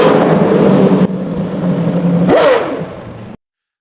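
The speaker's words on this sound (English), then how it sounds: "The way it revs, fast, wild, and unrelenting" A supercar engine is recorded loud and close. It drones with a rising rev sweep partway through, then cuts off abruptly to silence.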